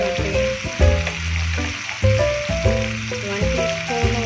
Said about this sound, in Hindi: ये तो हल्का सा फ्राई हो रहे हैं जी।